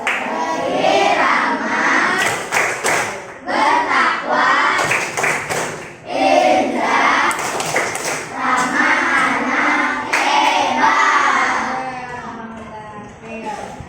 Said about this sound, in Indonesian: Kita tepuk dulu ya.